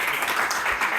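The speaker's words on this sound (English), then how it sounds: "Give them a round of applause for all 4 participants." An audience at a candidate forum in the Blue Valley Library applauds the four participants, a dense, even wash of clapping that holds steady from start to finish.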